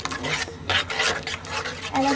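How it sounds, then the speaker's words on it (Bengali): A spoon stirs and scrapes chicken masala with chili and salt as it fries in oil for a home-style chicken roast. Several short, rasping scrapes come at an uneven rhythm over a soft sizzle. "মরিচ সামান্য আর লবণ দিয়ে ভালো করে এটাকে কষিয়ে নিচ্ছি"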